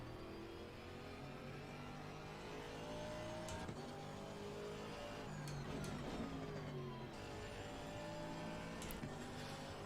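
Race car engine in Assetto Corsa Competizione during a British GT practice session, a steady loud drone with rising and falling revs and gear shifts through a chicane, continuous throughout.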